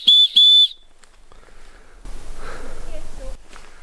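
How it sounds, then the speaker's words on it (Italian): Short whistle blown to call dogs back outdoors: two shrill, high blasts in quick succession at the start, followed by quiet outdoor sounds and a brief snort-like noise. "Con questo fischietto praticamente fischi tre volte e la ragazza ti ritorna appresso."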